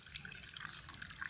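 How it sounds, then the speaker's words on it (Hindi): Lukewarm water poured over almonds in a bowl for soaking, a soft, continuous trickling splash with faint droplets, quiet and close with no talk. "नीम गर्म पानी लेंगे हम और इसमें भिगो देंगे इसे"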